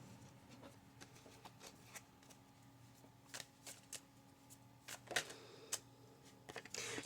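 Tarot cards flipped and laid down on a table, a scattered series of quiet crisp snaps and slaps, close and soft over faint background hum.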